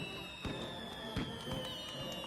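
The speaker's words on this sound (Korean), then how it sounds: "펑펑 터지는 폭죽 소리가 들려왔다" Fireworks heard from a house near the Tivoli open-air theatre, a string of distant muffled pops and bangs over a steady tonal background, irregularly spaced and moderately faint.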